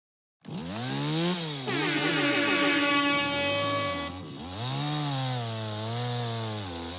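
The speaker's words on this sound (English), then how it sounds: "Sound like the chainsaw got bogged down there for a second" A chainsaw revs loudly and steadily, its engine pitch dipping and straining as it bogs down, then recovering and wavering again.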